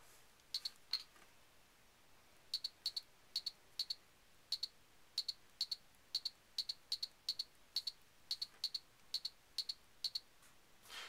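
Taps land on the touchscreen keyboard of a Camangi WebStation tablet as a series of crisp, evenly spaced electronic clicks, close and quiet against a faint hiss, with short pauses between bursts of typing.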